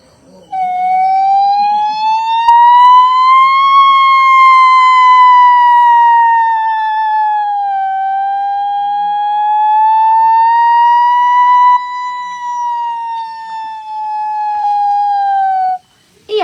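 A mimicry performer at a state school arts festival competition imitates a fire engine siren with her voice: one long, loud, close tonal wail that slowly rises and falls for about fifteen seconds.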